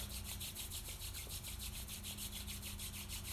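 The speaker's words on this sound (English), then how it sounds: "So we'll start with just rubbing our hands together" Two hands rub briskly together in a steady back-and-forth rhythm, a soft, close, continuous friction swish heard alone.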